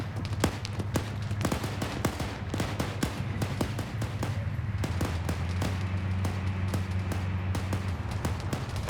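Gunfire in an SCP multiplayer video game: rapid, irregular volleys of sharp shots crackling continuously over a low droning background hum, moderately loud and steady throughout.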